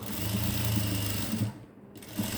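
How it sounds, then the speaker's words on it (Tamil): A sewing machine runs steadily while stitching a blouse sleeve. Its motor hum is continuous and close, then stops briefly near the end before faint rattling resumes. "அந்த தையல் மேலேயே இன்னொரு தையல் போட்டுவாங்க"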